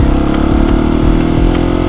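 KTM 701 Supermoto single-cylinder engine with an aftermarket Aero slip-on exhaust, a loud, close, throbbing idle with a deep, pulsing beat and a few light throttle blips.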